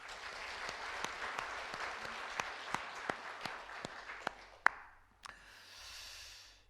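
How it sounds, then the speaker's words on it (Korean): A church congregation claps for the choir during a Sunday service: a few sparse, distinct claps ring out over a soft murmur of applause, thinning out and fading into faint room sound by the end. "우리 찬양대 힘내시라고 박수 한번 해드립니다"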